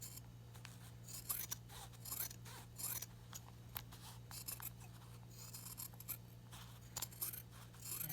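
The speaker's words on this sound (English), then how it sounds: "You're going to cut off the excess parts of your zipper" Scissors snipping off excess zipper ends while trimming a small in-the-hoop zipper bag, a close series of crisp, irregular cuts and rasping slides of the blades, with a faint steady hum behind them.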